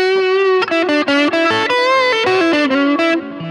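A loud, buzzing electric guitar through an E.W.S. Brute Drive distortion pedal, with a gritty distorted tone, plays a quick run of notes, sustained and thick throughout.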